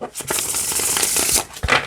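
A deck of Yuletide Tarot cards being shuffled by hand, a close, crisp riffling flutter that runs steadily and then ends with a soft tap as the cards settle.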